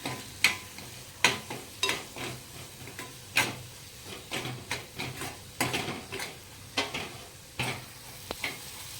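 Kashmiri chili and amchur powder being stirred into a cooking pan for a Punjabi-style raw peanut curry, with soft irregular scraping taps of the spoon over a faint sizzle, quiet and close, with no talking.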